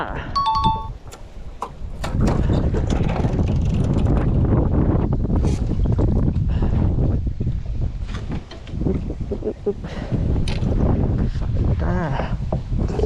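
Strong wind buffets the microphone while fishing for snakehead with a frog lure, a loud continuous roar with gusts, and someone talks over it throughout.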